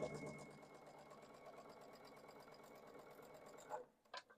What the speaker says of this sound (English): you can keep going chain piecing so you don't waste thread, and they just feed through the machine nicely